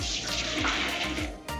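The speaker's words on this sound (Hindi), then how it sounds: "मैंने लगभग 3 मग पानी जो था वो मैंने खाली कर दिया है स्पेयर वाली बाल्टी में" Water pours from a mug into a spare bucket in one short, continuous splashing gush that is close and fairly loud.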